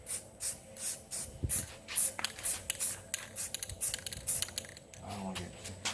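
Coat of paint sprayed from an aerosol can, heard as a series of short hissing bursts in an uneven rhythm, with light clicks and handling noise between them, close and fairly loud.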